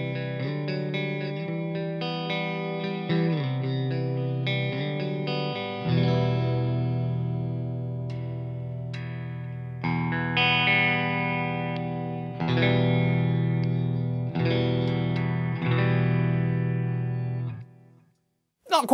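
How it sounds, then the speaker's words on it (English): A Gibson Les Paul Studio electric guitar on the middle pickup position plays strummed chords and picked notes, each ringing out and sustaining before the next, clear and close with no talking. "are we going to get that kind of Fender in between sound?"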